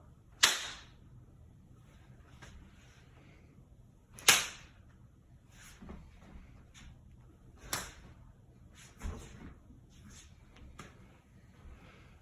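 Stage combat knaps, hands clapped sharply to fake a slap, ring out as several crisp isolated cracks spaced a few seconds apart, the first two loudest, with softer claps and quiet room noise between.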